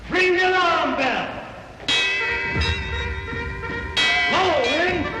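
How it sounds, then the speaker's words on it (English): A large alarm bell clangs three times at roughly two-second intervals, each strike ringing out with a bright metallic tone and long decay, while a voice speaks over it. "Ring the alarm bell!"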